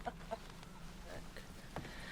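A chicken clucks a few times in Red Dead Redemption 2 after being set free, short faint clucks over low game ambience.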